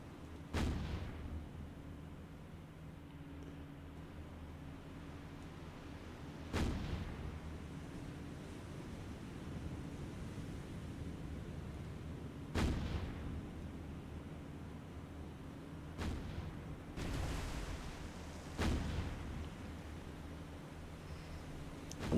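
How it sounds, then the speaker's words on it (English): Warship guns firing in the War on the Sea naval game, a series of heavy booming salvos spaced several seconds apart over a constant low engine and sea rumble, some shots doubled close together. "Let's just bring all the guns into play"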